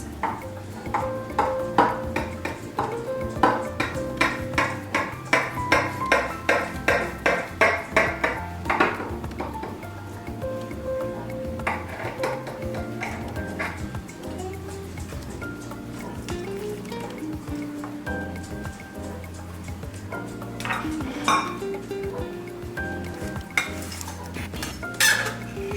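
Metal utensils scrape, clink and tap against a baking dish while baked veggie lasagna is cut and served, a quick run of rhythmic strikes giving way to softer scraping and scattered clinks.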